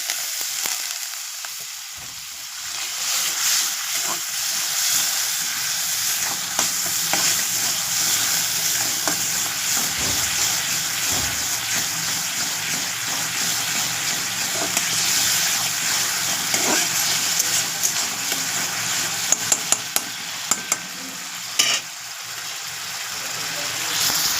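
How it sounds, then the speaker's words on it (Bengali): A splash of water meets frying spice paste for Bengali steamed duck eggs, a loud steady sizzle running unbroken throughout, close up, with a few faint clicks near the end. "এবারে সামান্য একটু জল দিয়ে দেবো।"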